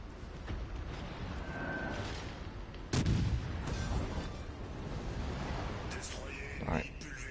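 Naval secondary guns in World of Warships fire at the cruiser Edinburgh amid a dense, rumbling battle din, with one sharp heavy report standing out near the middle and further booms later, while a voice talks over the action.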